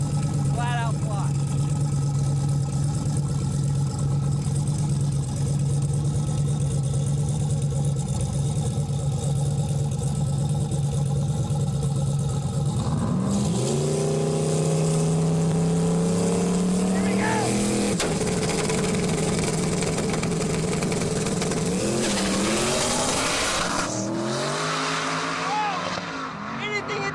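Trans Am and Mustang drag racing flat out at a speed event, loud engine roar with rising and shifting whine sweeps as the cars accelerate, under excited commentary and crowd noise.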